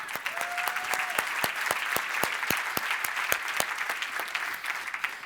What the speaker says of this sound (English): Big round of applause for the Testing Days team.